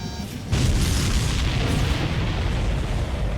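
A supply ship explodes in the Ace Combat 7 video game with a sudden heavy boom that swells into a sustained rumbling roar, loud and close, slowly settling into a dense low blast wash.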